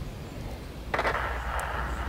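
A tank cannon fires once in World of Tanks, a TL-1 LPC shot that mostly hits the enemy's track. It is a single sharp report at mid-distance over a low rumbling engine bed, with a faint metallic ping after.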